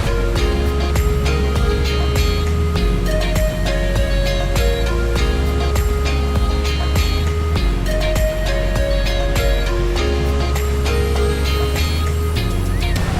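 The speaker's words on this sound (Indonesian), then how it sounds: "Airnya lagi kencang soalnya lagi musim hujan juga." A swollen, fast-running river in the rainy season near a jogging trail in Bogor, a loud steady rush of water filling the scene with no voices.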